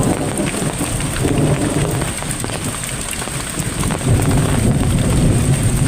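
Heavy rain pours steadily and loudly in a continuous hiss, with low rumbling thunder rolling underneath throughout and a constant high insect-like tone above.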